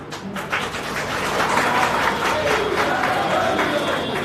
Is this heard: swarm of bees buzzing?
no